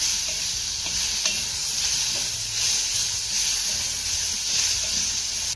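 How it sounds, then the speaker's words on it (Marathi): Chopped tomato sautéing in a hot pan, giving a steady, close sizzle with soft stirring scrapes running throughout and no voices. "यामध्ये आपल्याला एक चिरलेला टोमॅटो घालायचा आहे त्यानंतर हा टोमॅटो देखील आपल्याला छान असा मौसूद होईपर्यंत परतून घ्यायचा आहे"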